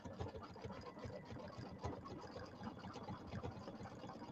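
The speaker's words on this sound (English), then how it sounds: "All right, so it's going to do the satin stitching" Embroidery machine running satin stitching for a Kimberbell table topper, a quiet, fast rhythmic needle chatter that repeats evenly throughout, faint and close.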